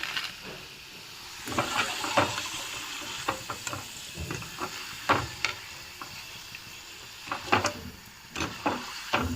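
Crisp homemade potato french fries sizzle steadily in hot oil, with a continuous close bubbling hiss broken by sharper crackles and occasional stirring or scooping clinks, no talking.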